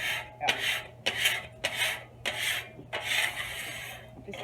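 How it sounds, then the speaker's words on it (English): A metal scraper rasps across the flat steel surface of a Blackstone griddle, clearing debris in six or seven firm, evenly spaced strokes, close and fairly loud. "Just scraping off any of the debris,"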